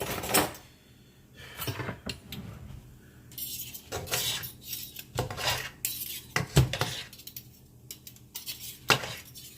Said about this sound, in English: Let's see if I can slice them up while they're in the pan